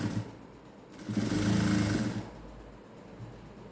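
A sewing machine stitching a cigarette pant runs in one short burst of about a second, a close whirring motor with rapid needle chatter that starts and stops abruptly over a quiet room.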